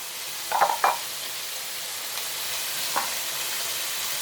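Squid stir-fried with garlic and spring onions in a hot pan gives a steady, close sizzling hiss, broken early by a couple of quick utensil clinks and a single later tap.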